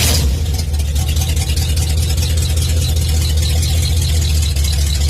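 An old car with an electric fuel pump starts and settles into a steady idle, its low engine rumble loud, close and continuous throughout with no talking.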